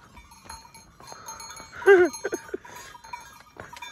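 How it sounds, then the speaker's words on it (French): Sheep wearing bells climb a mountain trail in the Dolomites. A close bleat rises over soft, scattered bell clanks and light shuffling, followed by a few short knocks. "des petits moutons qui montent"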